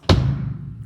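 A single bass drum kick on a drum kit, struck once on the first beat of a 4/4 count: a deep, close thud with a sharp attack that rings out and decays slowly.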